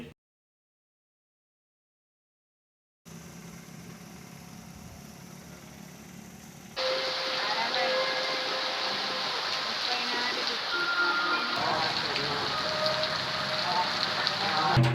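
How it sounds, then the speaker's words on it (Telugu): Heavy rain pours down in the Mulugu and Warangal region of Telangana, a dense, steady hiss that begins after a few seconds of silence and then grows louder and fuller, continuing without a break. "మహబూబాద్ జనగామ వరంగల్ హన్మకొండ జిల్లాల్లో కూడా భారీ ఎత్తున వర్షం కురుస్తోంది"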